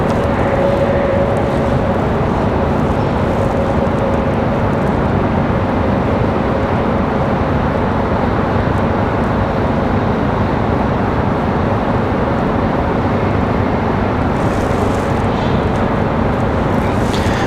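An Air Canada CRJ at Raleigh-Durham airport, heading to Toronto, gives off a continuous broadband jet roar. It holds steady and loud throughout, with heavy wind buffeting on the microphone.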